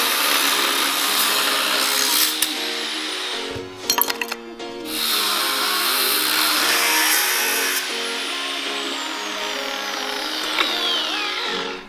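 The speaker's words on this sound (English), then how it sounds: "We'll cut the openings here, so we will get to that crucial nut to disconnect the airbag." A power tool cuts openings in the cross members of a four-motor monster truck project, giving a loud, continuous, close whining grind with a brief break of rattling clanks before cutting resumes.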